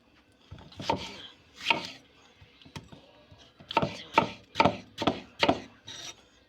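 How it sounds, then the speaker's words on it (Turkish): A knife chops tomatoes on a cutting board: a few strokes, a pause, then a quicker run of six or seven sharp, close thuds. "Şimdi domatesini doğrayacağız."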